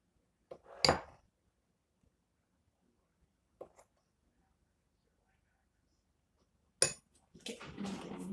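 A spoon clinks and scrapes against a bowl while Oreo cake batter is stirred, with a few faint, isolated taps followed by a brief, busier stretch of stirring.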